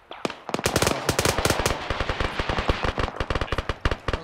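Sustained automatic gunfire in the military shooter ArmA 3 rattles out as rapid, loud, continuous bursts of sharp cracks with no pause for several seconds, with no voices.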